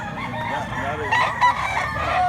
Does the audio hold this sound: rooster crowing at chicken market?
yes